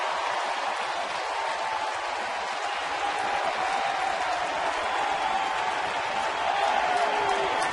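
Baseball crowd at PNC Park, Pittsburgh, roaring with steady, loud, unbroken cheering and applause as the home team closes in on a final strike against Houston, sustained across the whole stretch.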